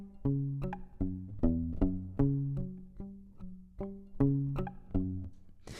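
A pizzicato cello bass line, plucked notes in a steady, bouncy rhythm, close and moderately quiet, alone without talk.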